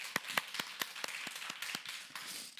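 Church congregation applauding during a Sunday service: a run of quiet, sharp, fairly evenly spaced claps heard from a distance, with no voices.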